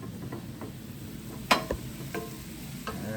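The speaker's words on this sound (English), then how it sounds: "let's go ahead and give a little saute here" Shrimp sautéing in a pan: a soft, low sizzle with a sharp stirring scrape near the middle and a few lighter clicks and taps, close and quiet, no voices.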